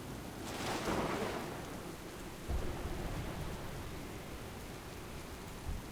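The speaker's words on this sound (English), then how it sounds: "This storm will soon overwhelm us!" Stormy weather at sea aboard a ship in World of Warcraft: Warlords of Draenor, a steady roar of wind and rain with a low thunder rumble swelling early and a faint crack later, no talking.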